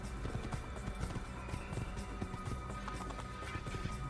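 Horse galloping in the video game Assassin's Creed, a fast, steady rhythm of hoofbeats running continuously over a dense layer of game ambience.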